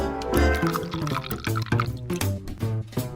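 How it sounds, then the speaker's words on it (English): Thick sweet lollipop syrup base pours into bowls and drips in uneven glugs and splashes, close up, with irregular bursts over a few seconds. "Finally, I can pour it into bowls."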